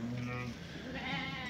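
A sheep bleats in long, wavering cries on a farm where ewes are being reunited with their lambs. The call is close and fairly loud, with one bleat fading and a second rising after a short gap.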